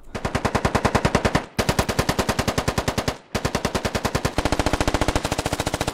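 Sustained automatic gunfire in the video game SquadOps, loud, rapid and close, in three long bursts with brief gaps between them.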